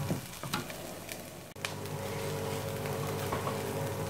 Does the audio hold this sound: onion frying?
yes